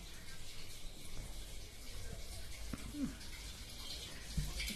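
Water runs steadily from a tap in a continuous low hiss, with a few faint knocks and thin background noise.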